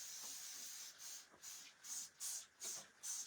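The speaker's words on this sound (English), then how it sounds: "So the faster you can put some power wash on there" Power wash cleaner is sprayed onto heat transfers in a series of short hissing bursts from a spray bottle, about five or six quick pumps in an uneven rhythm, close and fairly quiet.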